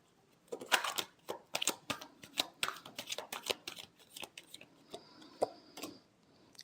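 Tarot cards being shuffled by hand, a series of crisp riffling and flicking bursts in an irregular rhythm, close and fairly quiet with no speech.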